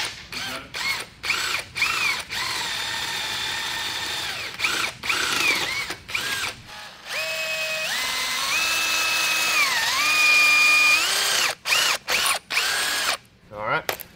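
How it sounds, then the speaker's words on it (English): A power drill bores holes through a go-kart brake rotor, its whine rising and dipping in pitch over a steady run broken by several short stops and restarts, loud and close with no talking. "So I'm gonna get these drilled, get this side drilled out, not this side."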